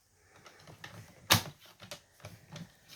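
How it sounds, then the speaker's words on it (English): A paper trimmer slices once through a sheet of paper, 1 inch from the end, for a split-front fancy fold card: one sharp close chop among soft paper handling sounds, with no talk. "I'm going to cut 1 inch from this end and 1 inch from this end."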